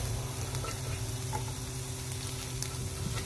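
Grated coconut and chopped onion fry in hot oil in a pan, a close, steady sizzle with a faint low hum underneath and no speech.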